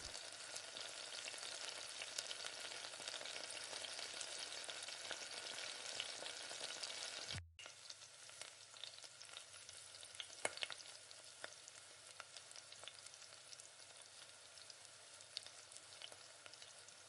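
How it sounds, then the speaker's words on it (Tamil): Chopped onions sautéing in hot oil for a Tamil tomato chutney (thakkali kara chutney), a steady close sizzle and crackle with occasional stirring scrapes, briefly dipping mid-way before frying on. "இப்போ கட் பண்ணி வச்சுருக்க வெங்காயம் இதையும் சேர்த்து நல்லா எண்ணெயில் போட்டு நல்லா வதக்கிடுங்க."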